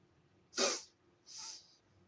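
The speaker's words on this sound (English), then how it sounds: "I have to sneeze." A person indoors sneezes twice, close and fairly soft: a sharp burst followed a moment later by a weaker second one, with no talking.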